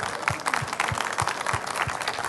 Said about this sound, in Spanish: vamos a darle un caluroso aplauso al doctor